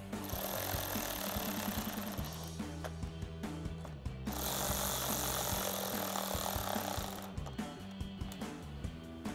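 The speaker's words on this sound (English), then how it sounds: "we'll take our 10mm socket to tighten these down" A 10mm socket tightens nuts onto studs while installing an upper grille on a 2021-2023 Ford F-150, giving a steady dense mechanical whirring and rattling, like a powered driver, with brief pauses and loud bursts throughout.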